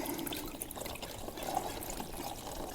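Water pouring from a metal water bottle into a bag at a scouting camp, a soft steady trickle and splash lasting a few seconds, faint and close.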